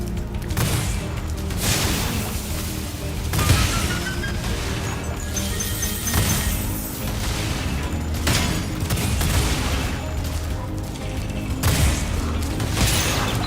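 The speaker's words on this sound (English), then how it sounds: "why is there keep being explosions over here?" Repeated booms and crashes of explosions in the video game Spyro Reignited burst every couple of seconds over a busy mechanical background, loud and close.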